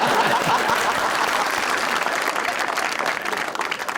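An audience at a talk show claps steadily, a dense, sustained wave of applause that starts out loud and fades a little toward the end.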